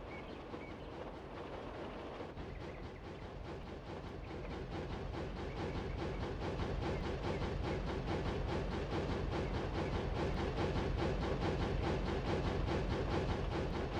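A very long train rolls along rails in the Roblox video game, a steady rhythmic clatter of wheels that builds slightly and stays continuous, fairly faint, with no talking.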